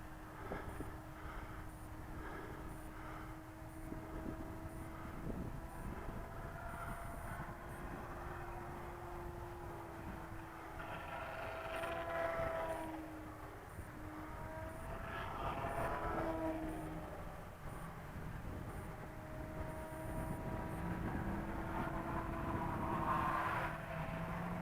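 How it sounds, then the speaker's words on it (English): A Carbon-Z Cub radio-controlled plane with flaps up flies at full throttle in strong gusty wind, its motor a continuous droning tone that rises and falls in pitch as it passes, over rough wind noise. "You got to give full throttle with this plane right now."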